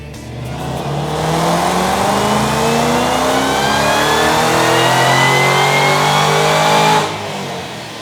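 A '13-'14 GT engine with fuel pump voltage boosters installed, revving hard through a full dyno pull for about six seconds, its pitch climbing steadily, loud and close, then cutting off abruptly near the end.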